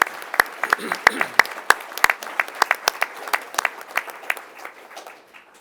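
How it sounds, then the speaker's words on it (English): A smallish audience at a school board recognition meeting claps, sparse individual hand claps ringing out in a room and gradually thinning and fading toward the end, with a brief voice mixed in early. "applause."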